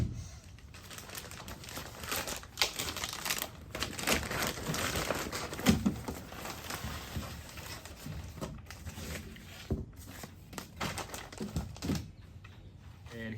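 Plastic packaging around a Ford F-150 tailgate seal kit being opened, a steady stream of close crinkling, rustling and crackling that keeps going with brief pauses, no talking.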